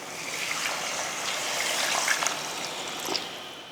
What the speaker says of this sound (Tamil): இந்த டைமில் தண்ணி சேர்த்துடலாம்.